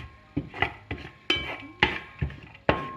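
A spatula knocks and scrapes against a pan while ingredients sauté in sesame oil, about seven sharp, close clinks at an uneven rhythm with a quiet fry between them.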